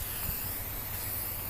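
A brief, continuous spray hiss as a coat is sprayed onto a DIY plant shelf, steady and close throughout.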